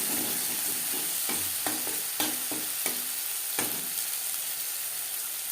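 Tomato masala fried in oil while being mashed, a soft steady sizzle broken by several sharp thuds and scrapes of the spoon against the pan, close up, no talk.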